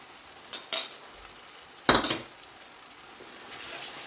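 Chicken bhuna with garlic and ginger paste cooks in a pan, soft sizzling underneath a few clanks of a utensil against the pan, one cluster of knocks standing out in the middle.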